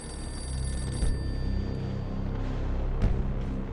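An old telephone rings inside a castle during a Second World War firefight near the end of the war, a steady ring that carries over a dense, continuous background of noise.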